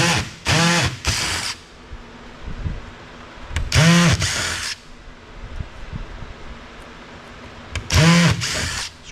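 Stubborn screws are driven out of a T-Mobile 4G CellSpot with a powered driver, heard as three loud, rising whirring bursts of the motor separated by quieter pauses with faint handling noise.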